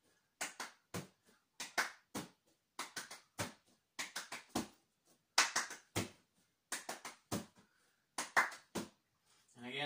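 Quick bursts of hand claps, two to four at a time, come in close, crisp clusters separated by brief pauses as a ball is tossed and caught during a ball-handling drill.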